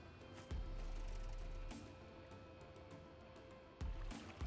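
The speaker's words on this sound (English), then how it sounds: "I can hear a wee tractor." A small tractor engine rumbles low and steady in the distance within a survival video game, faint beneath other game sounds, with a couple of louder thumps breaking in.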